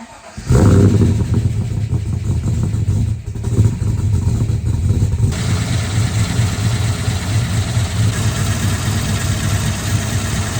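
A Holden VN Commodore's 5 litre V8 fires up and settles into a loud, steady, deep idle rumble close by, with no voices.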